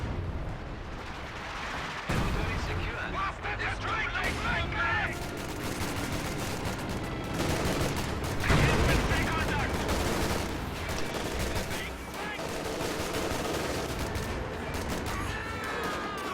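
Video game battle gunfire, sustained volleys of rifle and machine-gun shots with heavier booms layered in, loud and continuous throughout with a strong burst partway through.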